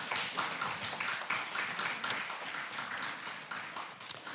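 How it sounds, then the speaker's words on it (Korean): A crowd claps steadily throughout, a dense wash of many hands with no talking over it, at a Jeung San Do religious gathering. "큰 박수 부탁드리겠습니다."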